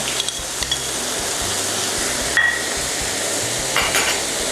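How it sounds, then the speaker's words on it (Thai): Stuffed tofu stir-fried in a pan with tomato sauce for a sweet and sour dish, heard as a constant hissing sizzle with scraping stirs and occasional clinks of a utensil on the pan. "ตอนนี้เราปรุงรสใส่ด้วย ซอสมะเขือเทศก่อนเลยนะคะ"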